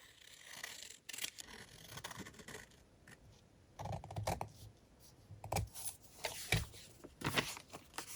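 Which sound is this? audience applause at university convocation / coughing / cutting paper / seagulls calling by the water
cutting paper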